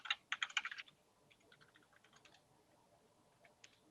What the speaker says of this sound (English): I can type it.